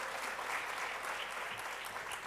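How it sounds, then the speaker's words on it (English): A crowd claps in a steady, even round of applause, quite faint and distant, with no other sounds standing out. "A round of applause for him"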